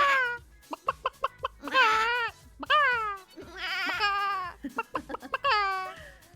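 A person imitates a sheep, giving a run of short, wavering bleats, about six or seven, broken by brief gaps, close and fairly loud with no other talk.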